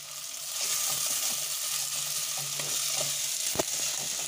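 Onions sizzle softly in oil for chicken curry while a spoon stirs them, giving a steady frying hiss with light scraping strokes and one sharper knock near the end.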